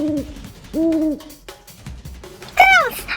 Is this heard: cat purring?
no